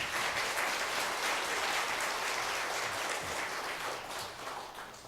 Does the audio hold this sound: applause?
yes